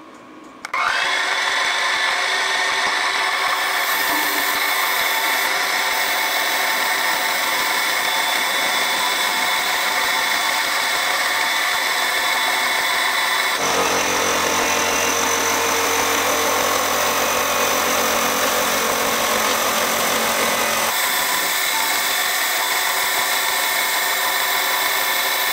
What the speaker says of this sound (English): just going to touch off and machine off this face.